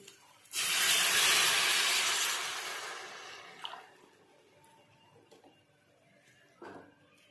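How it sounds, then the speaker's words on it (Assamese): A glass of water is poured into fried masala in a pan while making paneer gravy, setting off a loud burst of sizzling hiss that fades over a few seconds, followed by faint clinks. "এতিয়া আমি ইয়াতে এগিলাচ পানী দি দিম।"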